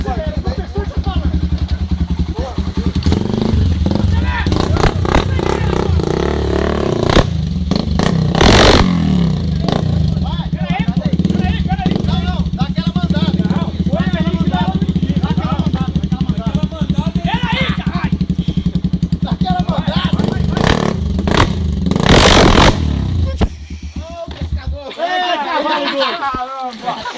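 A trail motorcycle engine revs and idles at a trail club gathering, loud and continuous throughout, with people talking and shouting nearby over the engine noise.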